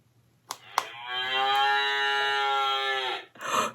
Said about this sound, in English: Can you moo like that cow?